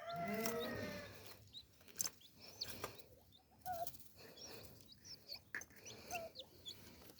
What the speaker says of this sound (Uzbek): Mana jo'jacha chipillayapti.